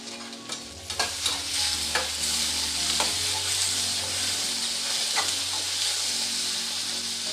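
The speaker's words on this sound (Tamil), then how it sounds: "கொஞ்சம் வதங்கட்டும்" Tomatoes sauté in a pan for garlic kuzhambu with a steady close sizzle, periodic spatula scrapes and stirring knocks, and a low hum running underneath, no voices.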